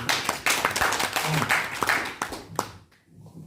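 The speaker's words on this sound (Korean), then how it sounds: "세종대왕 박수 한번 보내주셔서 너무 감사해요" Audience clapping during a lecture on living a happy life, a lively mix of close handclaps that thins out and stops near the end, with a faint voice following.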